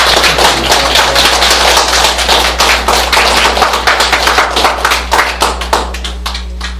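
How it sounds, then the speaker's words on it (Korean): Audience applause welcoming a visiting professor to a lecture on Korea's nuclear phase-out and energy policy transition; a dense, steady wash of many clapping hands lasting several seconds that thins toward the end, with no talk over it. "큰 박수로."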